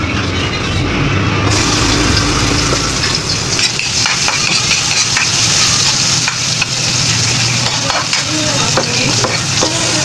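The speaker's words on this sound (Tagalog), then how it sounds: "magigisa na tayo ng mga aromatics" Aromatics sautéing in a hot pan for Ilonggo-style ginataang kuhol, a loud, steady sizzle with scraping stirs running through the whole stretch, no voices.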